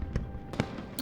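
Fireworks in the video game Love and Deepspace go off in three separate sharp bursts, each a short thud with a crackling tail, fairly soft and spaced across a second.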